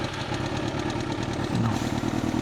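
An old, often-repaired motorcycle engine running close by, a loud steady uneven chugging idle with a slight rise in revs midway and no talk.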